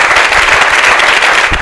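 Loud, dense applause from an audience at a comedy show in Lubumbashi, steady crowded clapping filling the whole moment with no voices on top.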